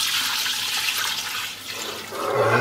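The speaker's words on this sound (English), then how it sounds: "we're now gonna pour the coconut milk into our pot" Coconut milk is poured into a cooking pot for a stew. It makes a steady, close, gurgling splash that eases slightly midway, then swells louder toward the end.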